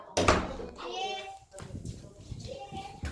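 An indoor door pulled shut during a children's hide-and-seek game gives one loud, close thud near the start, with children's voices talking over the rest.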